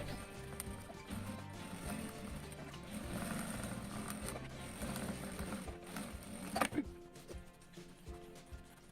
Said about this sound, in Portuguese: vai riscar o molde na volta toda e vai passar uma costura por cima dessa marcação